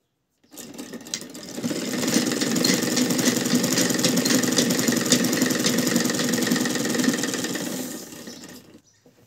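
A sewing machine runs continuously while stitching a divider seam in fabric, a steady fast mechanical whirring and rattling that starts abruptly, holds an even level for about eight seconds and then winds down, with no talking.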